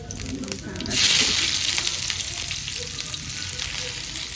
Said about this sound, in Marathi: पहिल्यांदा मी यामध्ये लसणाची तडका देणार